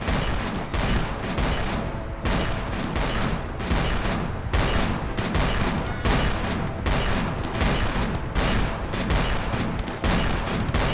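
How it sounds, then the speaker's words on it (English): Rapid video game gunfire crackles continuously in dense bursts against waves of enemies, loud and close with no break throughout, no talking. "Now we can shoot them all easily."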